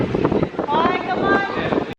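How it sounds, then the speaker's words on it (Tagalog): Strong, cold, storm-like wind buffets the microphone outdoors in gusty, rumbling bursts for a couple of seconds, cutting off abruptly at the end. "Ang lakas ng hangin."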